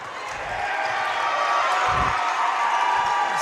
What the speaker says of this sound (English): Stags are cheering her on.